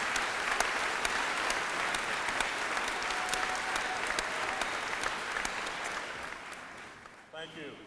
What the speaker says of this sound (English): you need to pay them a big round of applause